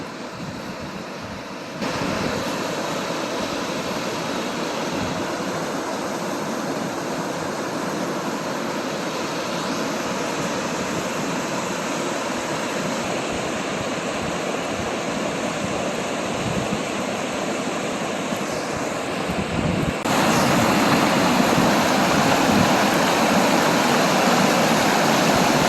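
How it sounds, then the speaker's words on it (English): Waterfall on the North River roaring steadily at close range, a dense continuous wash of falling water that grows louder near the end as the edge is approached. "here's the waterfalls."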